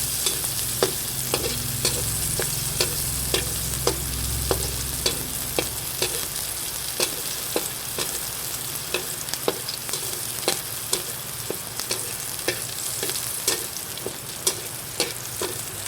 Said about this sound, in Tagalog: Ilalagay ko na po itong bawang at sibuyas.